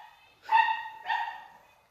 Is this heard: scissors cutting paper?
no